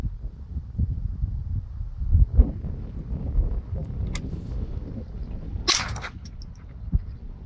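Several gunshots from CCI ammunition fire over a chronograph outdoors, sharp separate cracks spaced a second or two apart against steady wind noise, with one especially loud blast near the middle.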